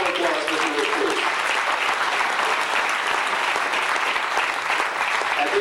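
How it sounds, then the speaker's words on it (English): Sustained audience applause at a 1991 fan club banquet, a dense, even roar of many hands clapping that holds steady throughout with faint voices mixed in. "Give a nice round of applause, Mr. Rick Kloos."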